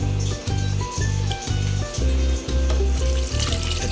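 Pork and jackfruit boiling together in water for kadyos baboy langka, a loud bubbling, sizzling churn in repeated surges, alone with no talk.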